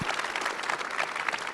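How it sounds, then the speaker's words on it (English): A panel audience at an Apollo 7 and 8 50th anniversary event claps together in a short, dense burst of applause that holds steady and stays fairly loud throughout. "Let's get a round of applause for that."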